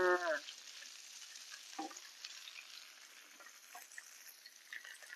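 Pork and basil stir-fry being tossed in a pan until fragrant: a bright spatula scrape at the start, then continuous soft sizzling with faint scraping and stirring, and no one speaking.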